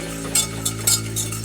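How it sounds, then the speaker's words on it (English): Flour is whisked into melted butter in a pan to make a roux, giving soft scraping strokes with light clinks of the whisk against the pan under a steady low kitchen hum, with no voices. "I'm going to add my flour bit by bit. I'm just going to mix it with my whisk."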